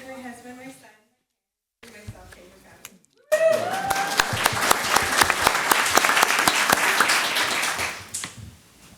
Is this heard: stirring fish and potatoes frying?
no